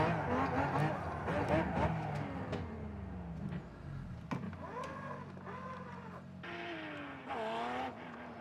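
RUF Porsche AWD car doing donuts in iRacing, tires squealing in wavering, rising and falling tones over a low engine rumble, fairly quiet, with a few sharp clicks and knocks mixed in.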